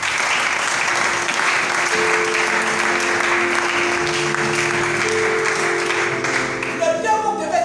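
A church congregation at an Easter celebration applauds loudly and continuously, a dense wash of clapping with a few voices rising near the end.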